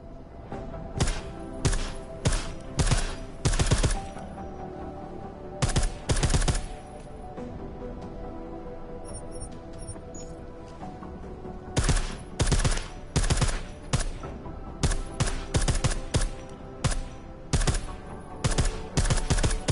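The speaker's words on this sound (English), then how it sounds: "I like how silencers reduce sound, but the trade-off is less stopping power, less damage per hit." Silenced gunfire in the video game Deus Ex: Mankind Divided, repeated clusters of muffled, thudding shots in quick bursts separated by short pauses, steady and close, with no voices.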